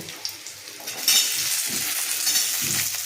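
Onions frying in a pan for a masoor dal and kolmi shak dish, a close sizzle that swells louder partway through, with a few light stirring scrapes and utensil taps.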